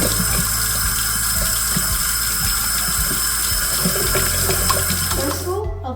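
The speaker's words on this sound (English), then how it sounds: "I'll put on my apron and wash my hands" Water running steadily from a kitchen tap during handwashing before cooking, a loud, continuous close rush and splash that cuts off abruptly at the very end.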